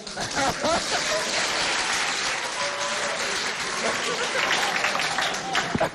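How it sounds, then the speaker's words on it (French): A crowd at a Chadian high school event claps loudly and continuously, a dense roar of hands with voices mixed in and occasional sharper claps standing out. "Applaudissez-le bien fort."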